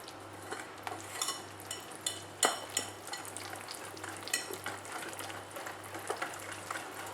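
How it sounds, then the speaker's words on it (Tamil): Rava cake batter with milk and sunflower oil is mixed in a bowl, irregular wet stirring strokes and utensil taps against the sides, close up with no talking. "இப்போ எல்லாத்தையும் சேர்த்து மிக்ஸ் பண்ணிக்க போகிறேன்."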